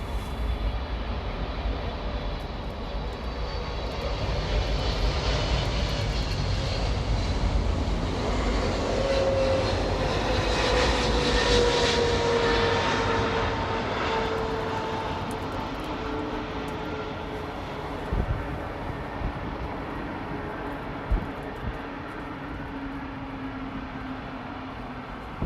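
Airliner arriving at LAX after a long-haul flight from Paris: a loud, broad jet roar that swells to a peak as it passes close, with a falling engine whine, then slowly fades into distant rumble.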